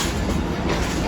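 The Shalimar Express passenger train of Pakistan Railways rumbles steadily along the rails with a dense, continuous roar of wheels and carriages heard from on board, loud and unbroken throughout.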